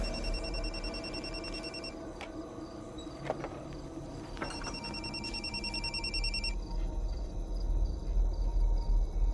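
A telephone rings on and on indoors, unanswered, its repeated electronic trill steady and moderately distant over a low background hum.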